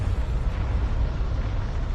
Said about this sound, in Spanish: La erupción del monte Tambora, situado en la isla indonesia de Sumbawa, es la mayor jamás registrada.